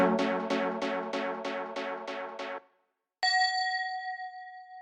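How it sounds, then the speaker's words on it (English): Bright electronic bell tones in a psytrance track: eight evenly spaced struck notes ring in a quick, steady rhythm, then a brief silence, then one sustained bell chord that rings out and slowly decays. "The bell is basically bringing the next section."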